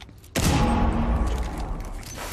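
A sudden loud burst of gunfire in the video game Rainbow Six Siege erupts and keeps rumbling on in a dense, echoing roar.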